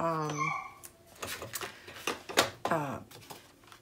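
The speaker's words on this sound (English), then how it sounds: "I can hear my puppy in the background" A puppy yelps and whines in short, high bursts, with a few sharp barks in between; the sounds come from fairly close.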